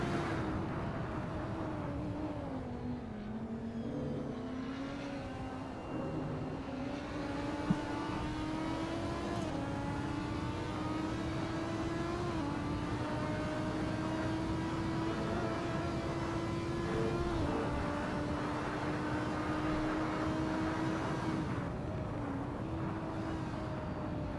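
Race car engines on the final lap at Road Atlanta in a sim racing game drone steadily, one close engine whining higher through long gears, with brief dips on downshifts and distant cars faintly behind.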